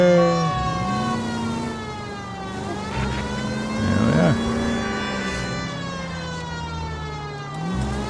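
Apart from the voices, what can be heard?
police car siren in the video game L.A. Noire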